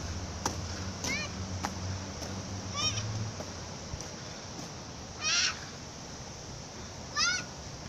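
Ducks and ducklings on a trail in Utah, with a few short, nasal honking calls standing out at intervals over faint outdoor background and occasional soft voices.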